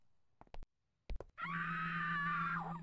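A stock scream sound effect in a horror video game: a woman's loud, sustained shriek held for over a second, preceded by a few short vocal bursts, heard alone without other talk.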